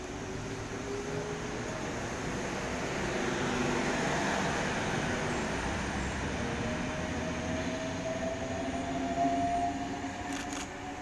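A Sydney train passes through Canterbury station, a steady rumbling roar of rolling cars that swells and holds for the whole stretch, with a faint high whine on top and no talk.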